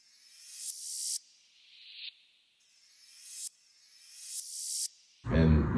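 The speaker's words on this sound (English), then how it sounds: "Then I added this little reversed open hat." A reversed open hi-hat sample in a produced beat repeats as several bright, hissy swells, each rising to an abrupt cutoff, followed at the end by a brief louder burst.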